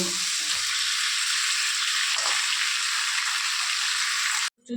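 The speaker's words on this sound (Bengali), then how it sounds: "তো এটা হয়ে যাক, অর্ধেক ভাজাভাজি হয়ে যাক, তারপরে ফুলকপিটা দিব" Oil and ingredients frying in a pan before cauliflower goes in, a steady loud sizzle filling the whole stretch with a faint stir partway through, cutting off abruptly at the end.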